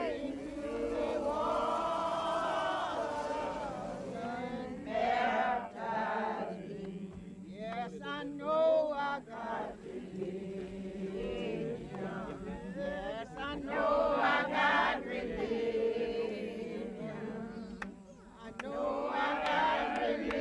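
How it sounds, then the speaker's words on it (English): A crowd dressed in white sings an old spiritual together at a Sunday morning river baptizing in Cane River country, Louisiana, with many voices blending into a steady, full-bodied chorus that swells and dips throughout. "If you should hear an old spiritual from a crowd of people dressed in white"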